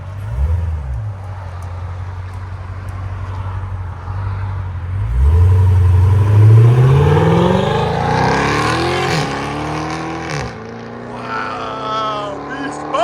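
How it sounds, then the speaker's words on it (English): A Dodge SRT Hellcat exhaust with the valves open, fitted with a Corsa mid section and Valvetronic rear mufflers, idles with a deep burble. It then revs hard, and the loud rising roar sweeps up and falls back as the throttle is blipped again. "This is with the valves open, Carven mid, and Valvetronics rears with the valves open."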